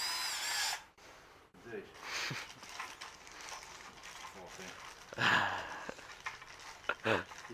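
A power drill runs in short bursts during boat fabrication work on a stem fitting, whirring close by between pauses, with some breathing and handling noise around it.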